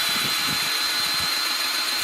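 A Milwaukee M18 2646-20 two-speed cordless grease gun runs its pump in a steady, continuous mechanical whine with a faint high tone, close by with no talking.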